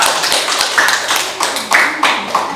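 Scattered hand clapping from a small group of students in a classroom after a presentation, a brief close round with uneven claps and voices faintly mixed in.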